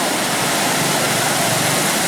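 Floodwater from a river rushes past in a loud, unbroken roar, a dense close torrent that fills the whole moment without pause.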